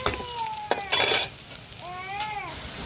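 A Telugu-style tempering of spices sizzles and crackles in a hot pan while a spoon stirs and clinks against the metal, with bursts of loud spattering partway through; there is no talk.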